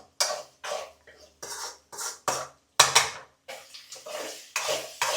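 Ragi sangati, a thick finger-millet porridge, being stirred in a pot, giving a series of short scraping, knocking strokes against the pot at an irregular rhythm, close and moderately loud with no talk.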